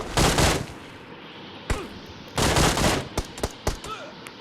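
Gunfire in the PUBG battle royale game: a loud sustained burst of automatic fire, then a second burst, followed by several sharp separate shots spaced apart.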